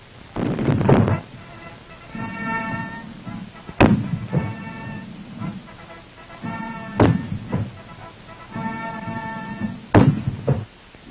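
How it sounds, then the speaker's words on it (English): Three heavy ceremonial cannon booms from a 19-gun salute at a U.S. Army Full Honor Award ceremony, spaced about three seconds apart, with band music sounding underneath throughout. "The honors include a 19-gun salute"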